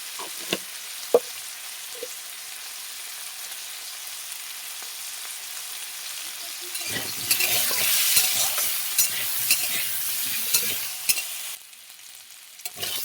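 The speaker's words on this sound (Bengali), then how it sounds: "আলুগুলো ভেজে নিয়ে একটু তুলে নেব আরও একটু তেল দিয়ে দেবো" Potatoes frying in hot oil with turmeric and salt: a few faint stirring clinks give way to a loud, steady sizzle that fills the second half, with no voices.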